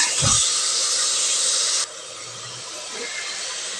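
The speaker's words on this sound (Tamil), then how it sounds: "தயிர் ஒரு கப் நல்லா மிக்ஸ் பண்ணி வதக்கி விடுங்க" Mushroom biryani masala mixed with a cup of yogurt sautés in a pan with a steady, close hiss and sizzle that drops slightly in level partway through and carries on evenly.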